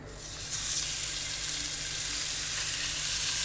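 Marinated beef strips sizzle and fry in a hot pan, a steady dense hiss that swells after a brief quieter start and holds loud and close throughout, with no talking.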